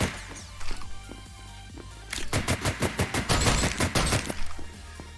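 Automatic gunfire in the Unreal Engine 4 shooter The Long Way Home: a rapid, steady burst of about a dozen loud shots, preceded by a few scattered single shots and game ambience, with no talking.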